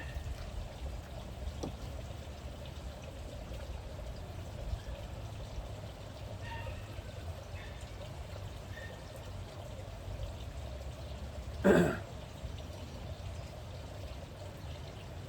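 Liquid chlorine pours in a faint, steady stream into a newly finished pebble-surface pool, with a brief louder splash or knock near the end.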